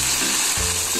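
Tempe sizzles loudly in hot oil with balado chili sauce while being stirred, a dense continuous crackle with low scraping knocks of the utensil against the pan.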